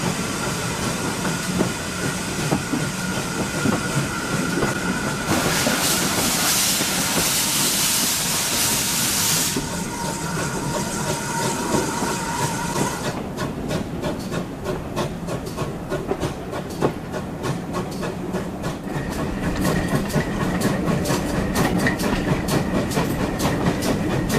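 A steam train departs on the South Devon Railway, loud and close, with a steady roar, bursts of hissing steam and a rhythmic chuffing and clatter of wheels that gathers pace along the line.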